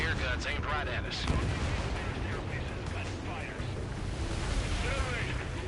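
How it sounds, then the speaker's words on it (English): Anti-air gunfire in the Ace Combat 7 video game rattles as a dense, continuous barrage of booming bursts over rushing wind-like roar, loud throughout, with a voice talking over part of it. "They got their anti-air guns aimed right at us."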